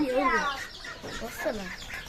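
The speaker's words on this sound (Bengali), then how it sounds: "দেখাবো টাইগার মুরগির বাচ্চা অনেক সুন্দর টাইগার মুরগির বাচ্চা হয়েছে" Young tiger chicken chicks clucking and cheeping in a short, close burst of several calls, with a few fowl-like sounds overlapping.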